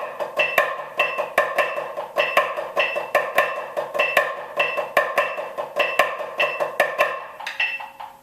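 Snare drum working through the final ones section of the flam accent grid, with hands alternating and one beat of each grouping. Sharp, evenly spaced flam strokes ring out close up and alone, fading at the end.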